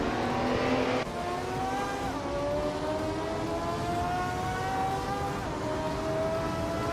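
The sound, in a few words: race cars racing, Porsche 936 leading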